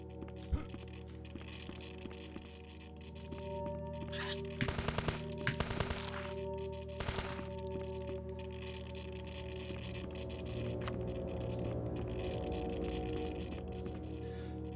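Turrets in the vents of the retro shooter HROT fire in loud rapid bursts, clustered volleys of gunfire cutting over a droning industrial hum, then fading to the low ambient drone.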